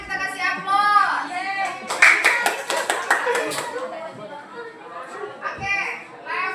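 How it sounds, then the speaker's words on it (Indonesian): A short burst of clapping from a group in a classroom with children, several seconds of lively applause mixed with children's voices and an adult talking. "Sembilan, kita kasih aplaus."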